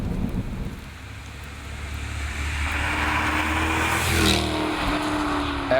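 A 2012 Jaguar XKR-S engine while driving in the Catskill Mountains, a steady, somewhat muted rumble with rising road and wind noise, continuous throughout and without talk.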